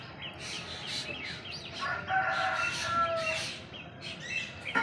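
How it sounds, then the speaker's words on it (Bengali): A rooster crows at an ashram beside small vegetable plots, its calls fairly distant and moderately quiet among chirping birds and outdoor ambience, with the clearest crow in the middle of the clip. "সকাল থেকে নিয়ে এত ওই মোরগ ডাকে যে প্রহরে পরে ঘুম ভেঙে যাবে"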